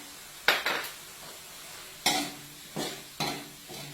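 A utensil scrapes and stirs in a sizzling pan of pork, long beans and kaffir lime leaves, with several distinct stirring strokes over a steady soft fry, close and fairly quiet.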